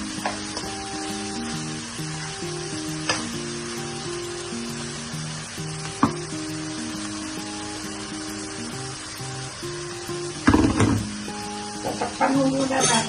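Pork belly simmering in a pot with coconut milk for Bicol express, a steady bubbling sizzle with occasional clinks and knocks of a utensil against the pot, one louder clatter near the end.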